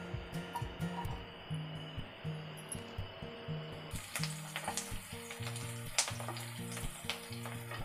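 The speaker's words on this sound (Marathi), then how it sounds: "आपण कढईमध्ये तेल टाकलेलं आहे 2 टेबलस्पून. आपल्याला कांदा भाजायचा मसाल्यासाठी." Chopped onion fries in two tablespoons of oil in a kadhai, a soft steady sizzle with light clinks, quiet under tuneful background music.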